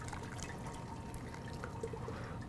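Liquid poured over fruit for peach lemonade, a soft steady trickle and splash with small drips, quiet and close, no talk.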